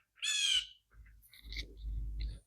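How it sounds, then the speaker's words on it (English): A single bright, tuneful bird call rings out close by in a garden, followed by soft rustling and low handling noises. "Hear the birds?"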